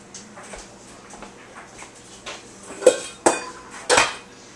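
A pressure canner lid is lifted off after canning meatloaf and the pot is handled, giving soft shuffling followed by three sharp metallic clanks of lid and pot near the end, close and unaccompanied by talk.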